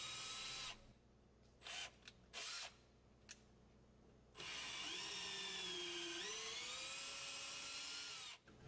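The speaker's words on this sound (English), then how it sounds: "Now I'm going to use a 1/4-inch drill bit and clean out the two front ports on the manifold itself." A 1/4-inch drill bit spins in the front ports of a Hi-Tech Systems SB polyurea pump manifold, with short whirring bursts followed by a long steady whine, loud and close with no talking.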